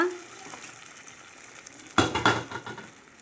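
Thick wheat paste (aleesa) drops into a pot and is stirred, a burst of wet stirring and sizzling scrapes starting midway after quiet kitchen hum.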